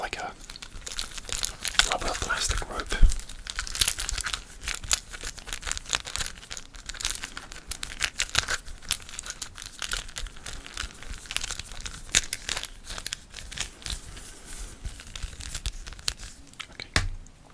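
Close crinkling and rubbery creaking from a rubber plastic rope being handled, with crunchy scrapes and bumps in an irregular, continuous stream.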